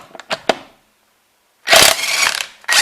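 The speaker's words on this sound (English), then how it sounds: "I'm using my impact gun with a 19mm deep socket." Impact gun fitted with a 19mm deep socket loosening lug bolts on a 2005 Town and Country during a front brake job: a few short clicks, a pause, then a loud, sustained buzzing rattle of the impact, close up.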